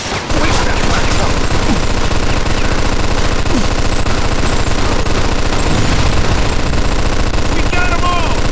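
Sustained automatic gunfire from a firefight in Mafia II, rapid continuous bursts of machine-gun shots, loud and close, running nearly unbroken across the whole stretch.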